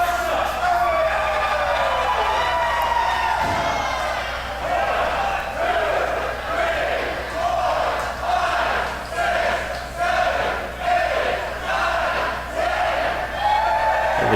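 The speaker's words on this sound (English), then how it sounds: "And the crowd loving it." Loud wrestling crowd at a live show, a dense roar of cheering and shouting that swells and surges over many seconds with no clear break.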